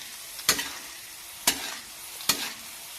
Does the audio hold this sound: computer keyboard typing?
no